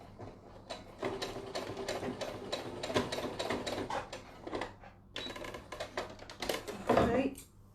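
A domestic sewing machine works slowly through many thick layers of fabric for a hand warmer, giving uneven bursts of rapid mechanical clatter with brief pauses, under a low steady hum.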